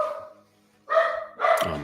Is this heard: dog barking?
yes